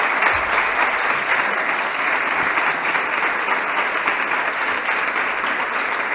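Dense, continuous applause from an audience at a church synod gathering, loud and steady for several seconds without pause.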